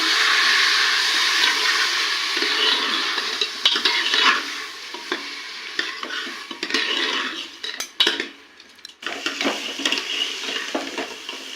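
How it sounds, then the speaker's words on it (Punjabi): Rice roasting with dry fruits in a pan for jaggery and carrot sweet rice, giving a continuous loud sizzle under frequent metal spoon scrapes and clinks against the pan, with no voices. "ਹੁਣ ਜੀ ਆਪਾਂ ਜਿਹੜੇ ਚਾਵਲ ਨੇ ਨੇ ਉਹ ਪਾਵਾਂਗੇ ਇਹਦੇ ਵਿੱਚ ਤੇ ਚਾਵਲ ਨੂੰ ਵੀ ਆਪਾਂ ਥੋੜਾ ਜਿਹਾ ਇਦਾਂ ਭੁੰਨ ਲਾਂਗੇ"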